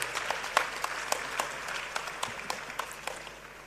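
At a foundation's tenth anniversary event, a small audience claps at a moderate level, with individual sharp claps standing out in an uneven rhythm against a soft background.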